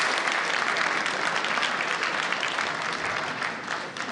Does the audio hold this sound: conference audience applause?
yes